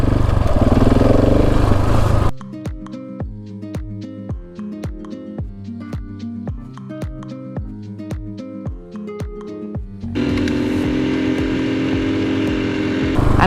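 A KTM 701 motorcycle rides off-road, its engine giving a loud continuous drone, then a stretch of sharp rapid popping pulses, before the steady roar returns.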